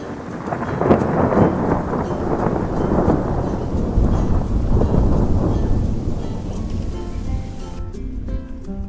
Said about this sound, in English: they listen to the rain and thunder